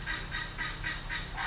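A turkey gobbles in quick repeated bursts, a rapid rattling series of calls over a constant low background hum, fairly faint.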